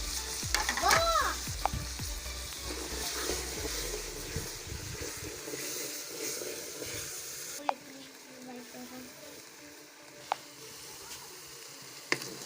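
Chicken karahi with garam masala, red chilli, kasuri methi and ginger-garlic powder fries in a pan, a steady close sizzle with scraping stirs and occasional sharp clinks, loud at first then settling quieter.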